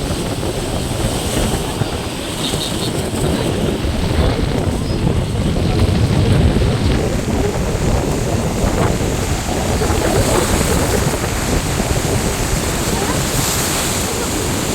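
Waves surge and splash continuously nearby at a Mumbai beach in the rainy season, with steady wind rumbling across the microphone and a dull engine-like drone underneath.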